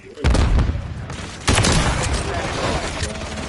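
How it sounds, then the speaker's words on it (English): A stun grenade going off in a tactical shooter game: two loud, booming bursts about a second apart, each with a noisy, rumbling tail, over constant game noise. "Throw stun grenade."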